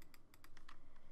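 Close computer keyboard clicks during Minecraft survival play, about eight quick taps in an uneven rhythm, quiet and alone with no voices.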